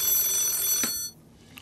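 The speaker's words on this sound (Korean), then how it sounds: "전화 걸려오고 있는데 한번 받아보도록 하겠습니다." A telephone rings at steady volume in a studio during a stock market broadcast, then the ringing stops abruptly and the room falls nearly silent.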